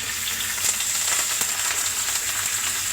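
Mustard seeds, cumin, cloves, cardamom and curry leaves crackle in hot oil and butter for an egg tomato curry, a steady close sizzle with small popping bursts throughout and no voices.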